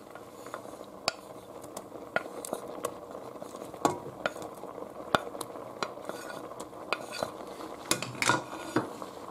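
Cheese portions go into carrot soup in a pot, with steady stirring, scraping and sharp metal clinks of a utensil against the pot repeating throughout, and no talking.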